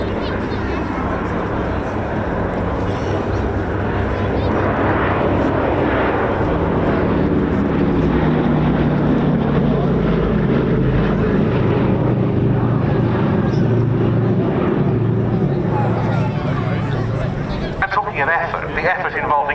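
A B-17 bomber passes overhead at an air show, its deep propeller drone swelling and then fading across the sky while an announcer talks over the public address.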